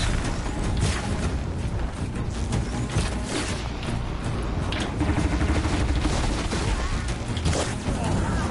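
Mortar fire from an enemy in the video game Horizon: dense, continuous rumbling blasts and crashes layered as a steady barrage, loud and close, with some game voice or talk mixed in.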